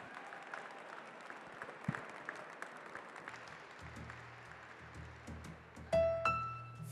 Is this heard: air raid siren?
no